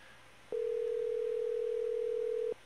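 A steady telephone tone sounds while calling someone, a single flat unbroken beep lasting about two seconds and clearly louder than the faint room noise, with no talking.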